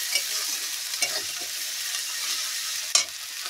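Ginger paste hits a hot pan and fries with an even hissing sizzle, broken by a few sharp clicks and a louder spatter near the end.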